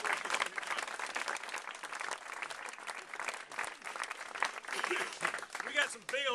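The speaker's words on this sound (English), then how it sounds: "give yourselves a great round of applause for the outstanding work that you've done" Supporters at a Virginia LGBT Democratic fundraiser clap and cheer, producing a sustained, somewhat distant roar of applause in which shouting voices blend into the mix throughout.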